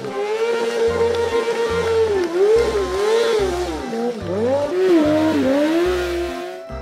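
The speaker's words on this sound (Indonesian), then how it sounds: "Sepeda motor." A toy motorcycle whines with a wavering, revving engine tone over a steady thumping beat, loud and continuous from start to finish.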